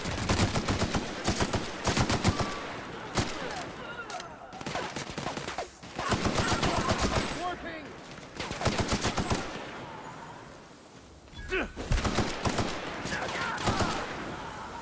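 Rapid bursts of plasma rifle fire in a video game, loud and close, repeating in dense volleys with short pauses between them.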